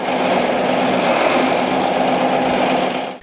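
A tractor engine runs at an inspection of farm machinery before spring field work in the Zainsk district, a steady, close, buzzing mechanical drone with a rattling edge that fades out at the end.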